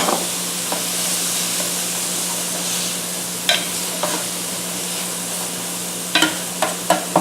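Sliced large yellow onion sizzling in a hot pan, a steady frying hiss with a low hum beneath, broken by several sharp clicks and scrapes of a utensil stirring, mostly in the closing seconds.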